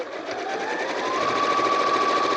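Sewing machine running a straight stitch on washable wipes, a loud, steady close-up whirring motor with rapid needle pulsing and a rising whine, sustained for a couple of seconds with no voices.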